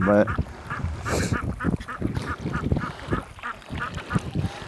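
Ducks quack repeatedly in close, busy bursts beside a small pond on a property, with honking, overlapping calls and a brief rush of splashing water early on.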